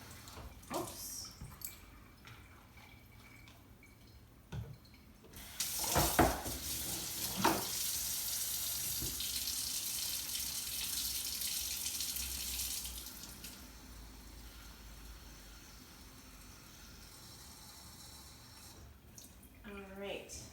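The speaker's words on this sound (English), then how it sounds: "I'm using my kitchen sink here." A kitchen sink tap runs for several seconds with a steady hissing gush of water, starting and stopping abruptly, accompanied by brief clatters and a person talking quietly before and after.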